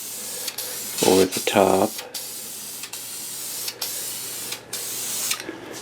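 Spray paint hisses in short bursts onto Mercedes W126 S-Class wheels, a light coat with brief pauses between passes, while someone talks over the spraying.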